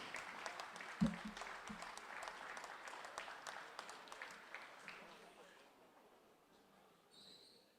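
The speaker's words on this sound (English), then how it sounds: "let's give these people all a great round of applause." A gym crowd at a high school basketball game, Millville at Holy Spirit, applauds seniors and their families; the clapping sounds faint and distant, then thins and fades out.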